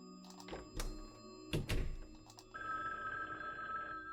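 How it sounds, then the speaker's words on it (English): In a video game, a telephone bell rings once after a couple of heavy thunks, then a steady electronic tone hangs on quietly afterward. "The phone rang once, but then it stopped."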